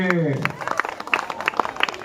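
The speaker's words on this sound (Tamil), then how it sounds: "இந்த கைதட்டு தான் நண்பா நம்ம இந்த வருஷத்துடைய மிகப்பெரிய ஒரு வெற்றி" Crowd applause at a nursery and primary school annual day event, scattered clapping from many hands following a voice at the start, moderately loud and uneven in rhythm.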